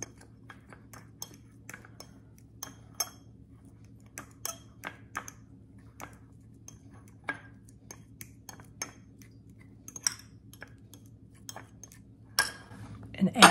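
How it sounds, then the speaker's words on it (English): Sharp clicks and clinks of a utensil chopping egg whites in a bowl, brief metallic taps coming irregularly and quite faint over a low steady hum, growing busier and louder near the end. "in another bowl, I will place the egg whites because we are going to chop those up"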